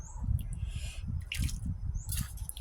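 Plain tap water poured over rice noodles, heard as close, uneven splashing bursts and low sloshing that come and go in short pulses.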